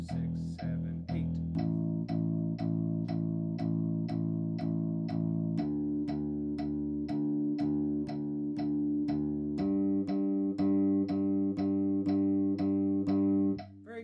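Rock bass guitar plucks steady repeated notes, eight even beats on one string before moving to the next, stepping through the strings with a click on each attack; loud and close, with no talk over the playing.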